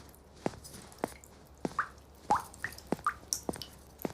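Water from a leaking tap dripping, a series of about eight sharp, close plops at an irregular, fairly quick pace over a quiet background.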